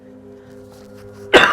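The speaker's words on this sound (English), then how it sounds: "I really want to cough again" A single short, loud cough or throat clear bursts out at the end after a near-silent stretch with a faint low background hum.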